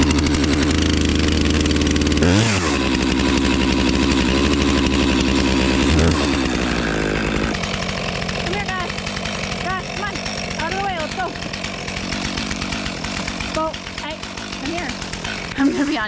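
A chainsaw cuts dry firewood outdoors on a breezy fall day, its engine snarling loudly and then dropping into an uneven, revving idle. Voices can be heard over the motor.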